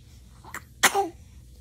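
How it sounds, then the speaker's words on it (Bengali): A single sharp sneeze, close and fairly loud, with a faint short breath just before it and a brief tonal trailing sound right after, otherwise quiet. "কাশি দেন কেন আপনি?"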